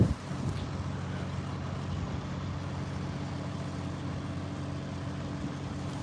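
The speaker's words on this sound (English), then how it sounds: "a lot of vehicle movement." Buses and trucks move outside the US Capitol on inauguration morning, a steady low rumble of traffic at moderate distance with no voices.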